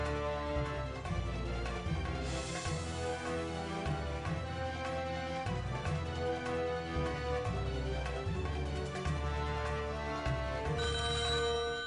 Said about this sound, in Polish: Teraz muszę usłyszeć telefon.